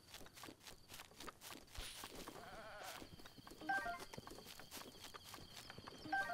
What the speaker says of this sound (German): Da ist noch so ein Ziegenbock.